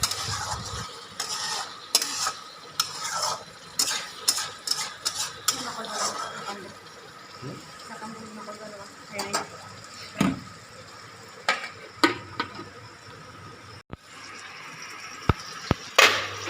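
Taro pieces frying in a pan with chicken, steady close sizzling broken by repeated clanks and scrapes of a utensil stirring against the pan, with brief pauses.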